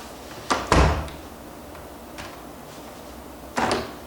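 A door bangs open and shut with a heavy thud, then a lighter knock follows and another solid clunk near the end, loud and close, with no voices.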